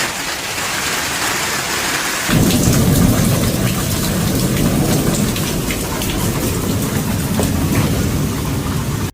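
Heavy thunderstorm rain pours steadily during a severe Oklahoma storm, loud and close, with a deep rumble of thunder swelling after the first couple of seconds and continuing beneath the downpour.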